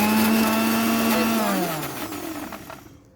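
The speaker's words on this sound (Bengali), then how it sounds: "আমি ঢাকনা দিয়ে এটাকে আবারও 1 মিনিট ব্লেন্ড করব।" A kitchen blender whirs steadily while making mayonnaise with the lid on, its motor tone holding and then winding down to silence over about three seconds.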